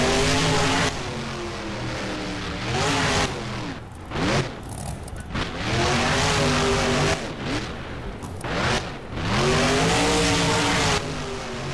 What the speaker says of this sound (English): That broken wheel not letting that truck turn as it rolls over, slides on the roof, and will come to rest on its side.